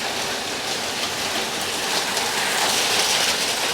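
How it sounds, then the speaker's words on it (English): Heavy rain mixed with hail pounds down on a homestead house during a storm, a loud, dense, continuous hiss and patter with no let-up and no voices. "That is a lot of hail coming in."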